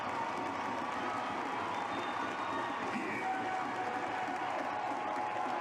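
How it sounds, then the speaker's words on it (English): A Dominica home crowd roars at a World Cup qualifier football match against Jamaica as a late corner is taken, producing a loud, sustained wall of cheering and shouting that never lets up. "One last roar from the Dominica crowd."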